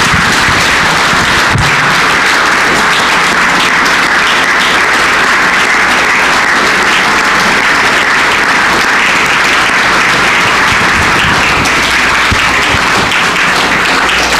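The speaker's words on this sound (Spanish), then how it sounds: "Pues vamos a darle un aplauso al Señor Jesucristo." Congregation applause in a church service, a loud, dense and continuous clapping that fills the space for well over ten seconds with sharp individual claps standing out, no speech over it.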